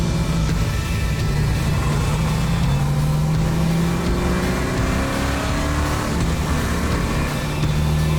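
A 1968 Chevrolet Camaro with a big block engine is driven hard, its rumbling exhaust rising and falling as it accelerates, close and loud throughout with no talking.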